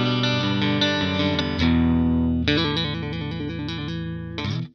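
Reverend Billy Corgan Signature Z-One electric guitar played through effects with its bass control turned down, giving a thinner, single-coil-like tone; distorted sustained chords and picked notes ring out loud and close, changing chord twice.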